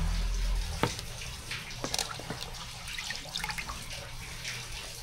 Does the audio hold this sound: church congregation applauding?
no